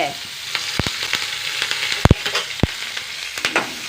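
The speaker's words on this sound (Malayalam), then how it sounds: "ഒണിയൻ വൺ ഒണിയൻ ചെറിയ ചെറിയ കഷ്ണമാക്കി ഇട്ട് കൊടുക്കുക കറിവേപ്പില" Chopped onion and curry leaves frying in a pan, with a steady close sizzle broken by sharp scraping and stirring clatters, several strong knocks near the middle, and no talking.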